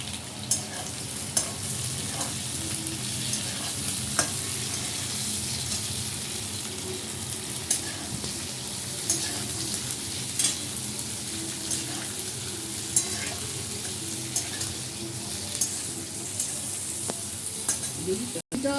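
Chopped chillies, capsicum and onion fry in a pan with a continuous bright sizzle, broken by stirring scrapes and occasional clinks of the utensil against the pan.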